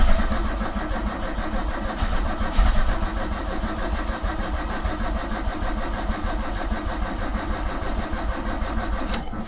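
A carbureted motorhome engine with a failing starter motor, unused for about a month, cranks steadily and loudly up close, sputtering as it tries to catch, with no voices over it.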